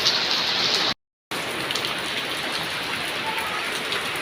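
Summer rain pours down in a steady, dense hiss of drops hitting the ground and surfaces, briefly cut off by a moment of silence before it continues unchanged, with no voices.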